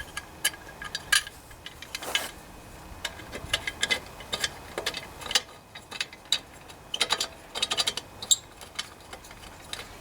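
A ratchet wrench tightens the muffler bolts on a Tecumseh engine fitted to a Toro GTS lawnmower. Quick, fairly faint clicking bursts repeat in short uneven runs across the whole stretch.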